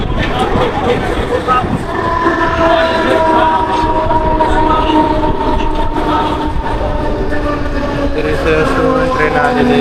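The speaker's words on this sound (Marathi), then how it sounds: "ट्रेन आलेली आहे" A Mumbai local train on the urban line toward Panvel pulls into a station with a loud, steady rumble of wheels and carriages and a sustained tonal whine, while a faint murmur of voices sits underneath.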